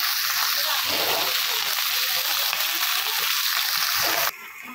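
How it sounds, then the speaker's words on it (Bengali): Fish frying in oil in a pan for a Bengali home-cooked fish curry lunch, a steady dense sizzle and crackle held close throughout, dropping off sharply near the end. "আমি এটাতে মাছ ভাজছি"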